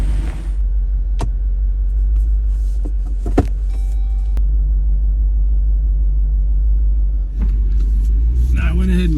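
Jeep Rubicon 392 crawling off-road in low range, a steady deep engine rumble close and loud throughout, with a few sharp knocks and clatters, and a voice speaking briefly near the end.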